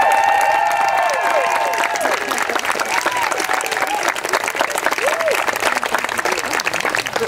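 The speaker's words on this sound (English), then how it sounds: "Let's give them another big round of applause." Loud, sustained applause from an audience at an Eighth of May Emancipation Celebration, honoring the Voices in Harmony Choir and students from MSMS, with dense clapping and some cheering throughout.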